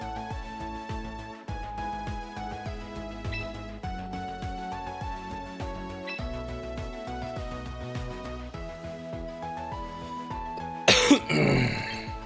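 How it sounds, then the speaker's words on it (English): Coughing and throat clearing from a commentator streaming a Pokémon Champions tournament break out near the end, over steady background music. "Sorry, I'm still getting over a cough, everybody."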